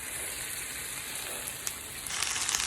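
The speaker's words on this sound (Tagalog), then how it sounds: "Ayan, kumukulo na." Seasoned food boils and sizzles in a pan on the stove, a close, steady crackling hiss with a faint bubbling texture and no talking.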